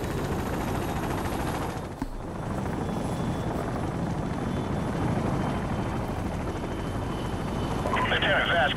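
A helicopter in Call of Duty: Modern Warfare Remastered's War Pig mission produces a loud, steady rotor and engine drone. The drone dips briefly about a quarter of the way in, and faint gunfire sounds alongside it.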